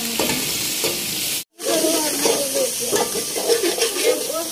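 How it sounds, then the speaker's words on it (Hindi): Chicken frying in hot oil with browned onions, a steady loud sizzle with stirring and scraping, broken by a brief silent gap before the frying resumes, no speech. "अब चिकन फ्राई हो जाएगा तब तक।"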